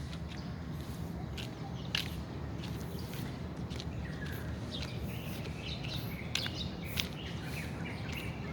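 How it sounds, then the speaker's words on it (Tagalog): Many birds chirp and call along the Manila Bay seaside, with short, scattered tweets at a moderate distance over a steady outdoor hum. "maraming ibon"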